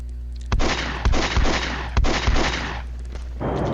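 Heavy artillery fire in an FGR multiplayer wargame set at Norderfurt, with several loud, booming blasts at irregular intervals, each trailing off into a rumbling wash that fades toward the end.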